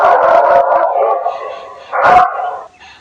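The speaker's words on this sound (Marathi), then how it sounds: "हा स्पीकर लावून ठेवला आहे इथं, जिथं कुत्र्याचा आवाज वगैरे येतो" Recorded dog barking played from a loudspeaker set up to guard a mango tree in Konkan, loud harsh barks and a howl-like yowl in two close bursts.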